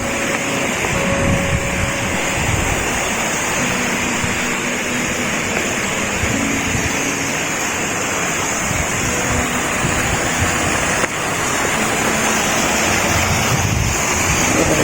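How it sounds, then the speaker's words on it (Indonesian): Rushing water of the Karu River waterfall on a mountain hiking trail, a loud, continuous broadband roar with wind buffeting the microphone and no voices. "Air terjun Sungai Karu"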